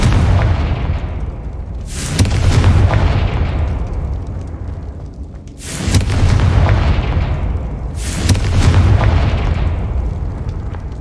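Three loud, close explosive blasts from the Confringo fire spell in Hogwarts Legacy, each a sharp boom with a long rumbling decay, spaced a few seconds apart.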